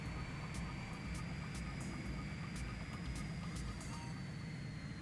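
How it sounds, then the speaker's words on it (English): A fighter plane's engine in the video game Ace Combat 3 Electrosphere gives a faint, steady drone throughout, with light clicking ticks scattered over it. "That plane moves really well"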